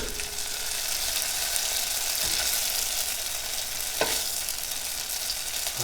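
Food pan-frying until crispy in a pan, a steady close sizzle and crackle running throughout with no talk, a couple of brief clinks near the middle and end.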